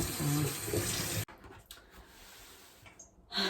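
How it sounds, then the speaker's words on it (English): Cold tap water gushes into a sink while blue-dyed yarn is rinsed, a steady close splashing stream that cuts off abruptly, then quiet dripping and handling before the flow briefly resumes. "cold water and I'm going to rinse it, just until maybe some of the blue comes out"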